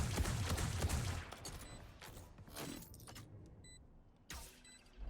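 Rapid bursts of gunfire from a competitive first-person shooter match, fired through a wall, crackle in a few clustered volleys separated by short pauses, with small mechanical clicks between them.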